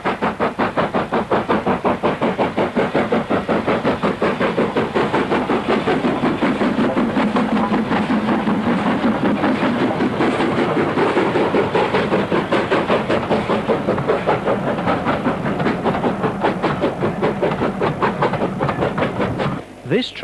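A train labours up the steep 1 in 49 climb of the Moors Line near Beck Hole toward Goathland in North Yorkshire, its close, loud, rhythmic beats pounding steadily and unbroken throughout.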